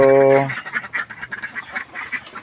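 Ducks kept in a shaded spot quack repeatedly and loudly close by, a steady chatter of overlapping calls after a brief opening honk, with no talking.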